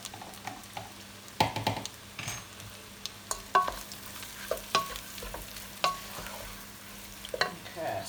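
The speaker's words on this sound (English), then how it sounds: "Stir it around, doesn't matter if it goes in a big lump at the end" Spoon stirring chicken curry in a pan, with soft scraping strokes and light bumps repeating at an uneven pace over a faint steady background.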